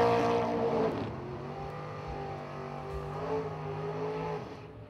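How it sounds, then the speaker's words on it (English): A drag racing pickup truck's powerful engine roars with revving throttle bursts, loud at first and then settling into a steady drone as it fades slightly. "That was him you heard whacking the throttle down there."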